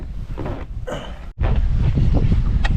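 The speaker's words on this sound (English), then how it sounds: "still pretty windy over here" Steady wind buffeting a microphone at Lake Sonoma, rumbling low and rough, with a brief dropout midway before the gusty roar resumes just as loud.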